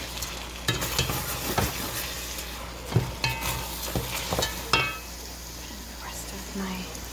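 Washed rice is stirred into sizzling meat for Puerto Rican arroz con pollo, a steady frying hiss broken by repeated sharp scrapes and clinks of a utensil against the pot, close and clear.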